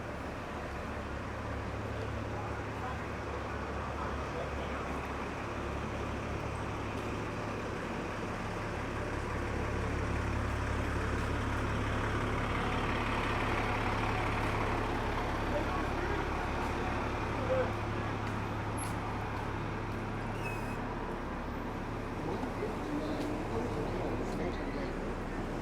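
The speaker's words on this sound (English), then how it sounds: "I won't talk going by the buses because they make enough noise on their own." Buses and traffic rumble past on a downtown Halifax street at dawn, a steady loud engine drone with a swell of passing vehicles midway, while footsteps and light voices sit underneath.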